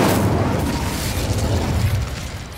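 A fiery spell blast from Incendio in the Hogwarts Legacy video game, a steady loud rumbling roar with dense low-end boom that holds for the whole stretch without pause.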